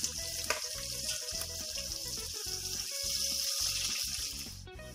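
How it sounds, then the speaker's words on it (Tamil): Onions cut into large chunks frying in oil in a pan, a steady sizzle with occasional clinks and stirring, close and moderately loud with no talking. "இதில் நான் கொஞ்சம் பெருசு பெருசாக கட் பண்ணி வச்சுருக்க ஆனியனை நான் ஃப்ரை பண்ணி எடுத்துக்க போகிறேன்."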